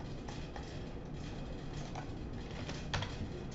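Quick typing on a computer keyboard during a lecture: steady soft clicks run through the whole span, with a slightly sharper tap near the end, against a faint room background.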